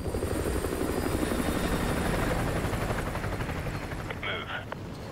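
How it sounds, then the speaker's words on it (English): A military helicopter in Modern Warfare 2 Remastered closes in, its loud, steady rotor thrum filling the scene continuously, with a faint voice and a brief burst of higher-pitched sound near the end. "Chopper inbound. Keep low."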